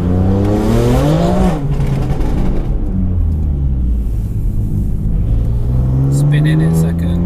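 A BMW M4 pulls hard with wheelspin in second gear, its engine droning loud and steady from inside the cabin, the pitch climbing, dipping, then rising again, while occupants talk over it.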